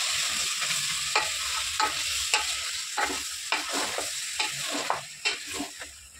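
Country chicken with turmeric frying and being stirred in a pan, a steady close sizzle broken by regular spatula scrapes and clinks roughly every half second, with no talking.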